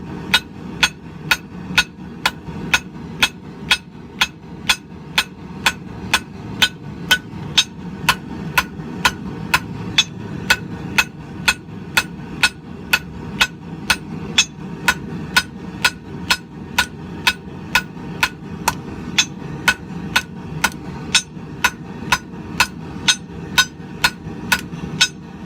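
Blacksmith's hammer forging a taper on an old file, steady rhythmic metallic blows roughly twice per second continuing without pause over a low background hum.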